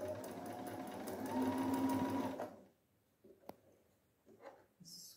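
A sewing machine stitches fabric in a steady, fast whirring run for about two and a half seconds, then stops, leaving a few faint clicks and handling sounds as the fabric is turned at a corner.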